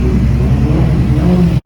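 A Ferrari 458 Speciale at the Zoute GP 2022 car event revs its engine in a loud, close, sustained roar that cuts off abruptly at the end.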